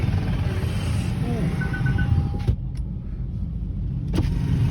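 Heavy traffic near a crowded Palm Sunday celebration with palm fronds: a dense, steady rumble of nearby cars and engines, a short high tone, and a brief clunk partway through, with voices faintly in the mix.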